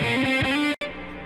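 Squier Paranormal Super-Sonic electric guitar ringing out with reverb, sustained chord tones for about three quarters of a second, a brief cut to silence, then a softer reverberant tail continuing alone.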